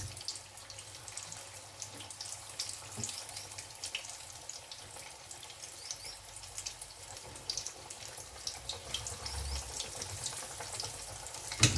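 Pumpkin fritters in crisp batter deep-fry in hot oil, a steady soft crackling sizzle with faint bubbling that runs on without pause and with no voices.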